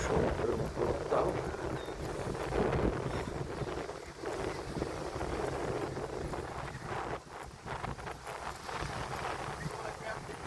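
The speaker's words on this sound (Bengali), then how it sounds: "দূর থেকে পানির গর্জন শোনা যাচ্ছে।" Wind-driven waves roar on Lake Ontario, a broad rushing surge of water rising and falling with heavy gusts buffeting close by, while someone talks over it.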